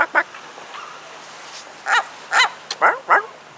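A seagull calls in a string of short, bark-like yelps, first a couple of quick cries, then a cluster of louder, closer honking barks near the end, with no talking over them.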